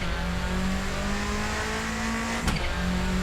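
Engine of a 1995 Subaru Impreza WRX STI in the Assetto Corsa racing game, a steady loud drone held at high revs with a brief gearshift blip near the end, tire noise underneath, no talking.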